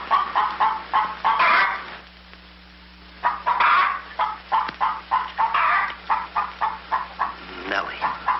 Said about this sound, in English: Lay, hen, lay.